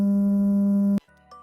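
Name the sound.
gamma brain wave sound, around 100 hertz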